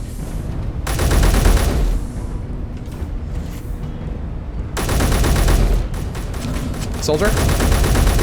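Automatic weapon fire in the video game Space Engineers, loud bursts of rapid shots in two long stretches with game noise between, with someone talking briefly over it.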